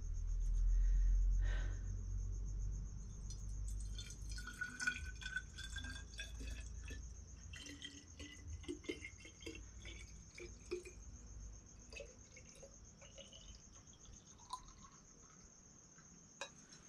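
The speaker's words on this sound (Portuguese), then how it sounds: "É água." Water drips in a boiler room, scattered faint drops and trickles over a steady high mechanical whine and low rumble, fairly quiet and alone without talk.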